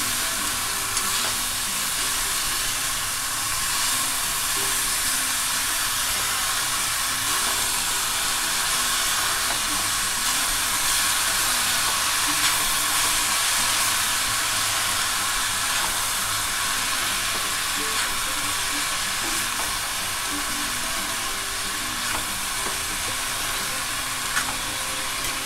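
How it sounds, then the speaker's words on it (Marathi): Fresh fenugreek leaves stir-frying uncovered in a pan over a high gas flame, making a loud, continuous hissing sizzle that holds steady throughout, with no talk. "आता गॅस मोठा करून चांगली परतून घ्यायची आणि झाकण न ठेवता ते शिजवून घ्यायचे."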